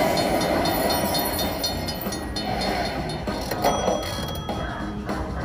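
Slot machine train bonus effect from the Luxury Line game, a steady rumbling rail clatter with scattered bright clinks and chimes, fairly loud and continuous with no talking.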